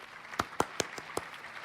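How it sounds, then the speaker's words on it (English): An applause button fires a canned clapping effect during a barbershop-style talk show, heard as a handful of quiet, evenly spaced sharp claps over a faint background hum. "Let me get that applause button."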